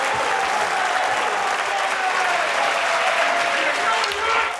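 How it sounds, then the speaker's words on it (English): A snooker arena crowd gives Ronnie O'Sullivan a standing ovation at a World Grand Prix semifinal, with sustained loud applause and a continuous roar, with a commentator talking over it. "The crowd are on their feet. A standing ovation."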